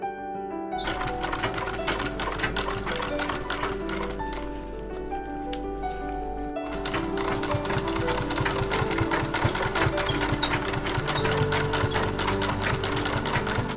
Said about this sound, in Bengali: এবারে এখান থেকে চাপ সেলাই দেব,